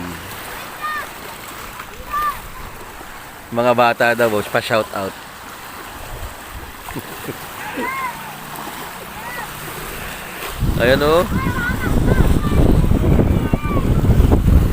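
Rough, strengthening typhoon waves rush and splash with broadband surf noise that swells louder toward the end, while people talk over it in bursts.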